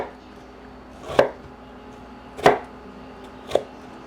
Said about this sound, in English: I'm gonna just make small little slices, maybe only 1/8 of an inch